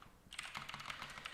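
Keys on a computer keyboard clatter in a quick, faint burst of taps during PC gaming in Strucid, close by, with no talk.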